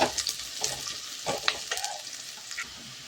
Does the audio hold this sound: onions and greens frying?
yes